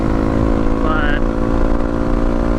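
A Honda CRF250L dual sport motorcycle riding along a back road, its engine droning loud and steady close by with wind rush and a brief rising tone partway through.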